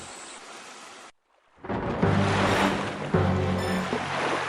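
Strong wind and sea waves rock a ship as a story sound effect: a loud, steady rushing roar of wind and surf that follows a brief silent gap and carries on without speech.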